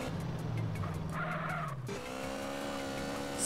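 A motorcycle revs and accelerates in GTA San Andreas at a motorbike driving school, a sustained engine whine with tire screech that drops and rises again to a higher steady pitch.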